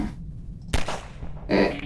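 An explosion in the video game Garry's Mod lands as a sharp broadband blast, followed moments later by a second rumbling burst, short and fairly close.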